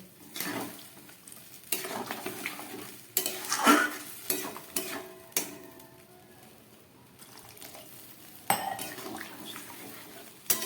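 Water poured into a pot of curry with prawns and kudri, heard as intermittent splashes and clatters of a spoon against the pot among quieter gaps, close and fairly soft, with no talking.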